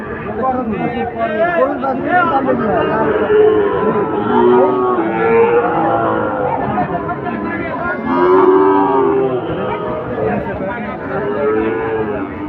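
Sahiwal cattle low repeatedly at the Ambari livestock market, loud, close moos rising over a steady crowd hubbub that fills the whole stretch.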